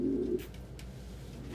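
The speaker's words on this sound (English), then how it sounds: "Birds just feeling themselves today." Pet birds, pigeons or doves, give a short soft coo at the start, then quieter rustling and faint chirps follow in an indoor room.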